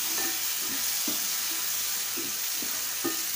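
Cluster beans (gawar) with green chillies frying in a pan, giving a steady close sizzle with a few soft stirring clinks and scrapes throughout.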